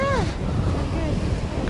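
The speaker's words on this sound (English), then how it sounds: "Yeah, getting windy, actually." Gusty wind blows at a seashore, buffeting the microphone in a dense roar with surf beneath; a brief wavering tonal sound passes at the start.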